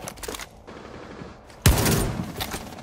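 Gunfire in Rainbow Six Siege on the Consulate map: a loud, sudden burst of pistol shots from the operator Mira, following a quieter stretch of game noise and continuing as dense crackling reports.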